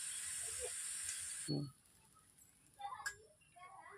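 Water poured into a hot pan of sautéed okra and potato curry hisses loudly for about a second and a half, then dies down to a soft simmer with a brief sizzling burst near the end.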